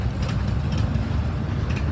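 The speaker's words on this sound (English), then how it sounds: "1928 Model D John Deere tractor." A 1928 John Deere Model D tractor engine rolling past in a vintage tractor parade, a loud, steady low rumble with dense chugging, close by and continuous.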